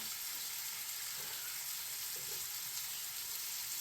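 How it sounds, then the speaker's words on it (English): Meat browns in a pan with a quiet, continuous sizzle and light crackle throughout, with a couple of soft stirring knocks and no voices. "my meat's got some browning going on it"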